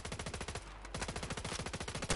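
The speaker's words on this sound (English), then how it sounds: "We're being shot at." Call of Duty gunfire: a rapid automatic weapon rattles in a steady, evenly spaced stream of shots, briefly pausing before resuming, close and moderately loud with no talking.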